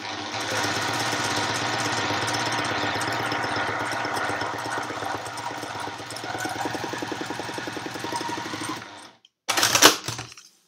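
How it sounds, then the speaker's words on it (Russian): A sewing machine stitches steadily along the edge of a paper leaf, giving a loud, close, continuous mechanical whirr for several seconds. It then stops, and a short clatter follows. "Моя швейная машинка пробила дырочки в этом листе."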